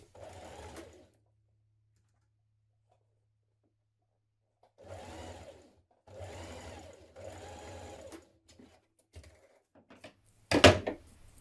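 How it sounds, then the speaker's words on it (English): A sewing machine stitching a 1cm seam across a fabric strap on a jumpsuit. There are several short, close runs of rapid stitching separated by pauses, then a sharp loud clack near the end. "We're going to stitch it across here with a 1cm seam"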